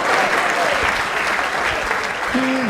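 Loud, dense applause from a comedy show audience, a continuous wash of clapping filling the whole short stretch, with a faint voice or whistle-like tone briefly rising near the end.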